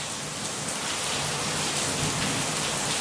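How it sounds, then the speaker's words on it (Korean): Steady, dense rain pours down without a break, a loud, even hiss filling the whole stretch. No clear thunder rumble stands out, and no one speaks. "지금 저렇게 비가 오고 천둥 치고 하는 게 원인 없이 저럽니까?"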